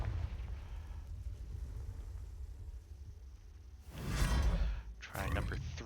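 The Confringo fire spell in Hogwarts Legacy goes off as a sharp whooshing burst followed by a second fiery swish, loud over faint game ambience after a quiet stretch.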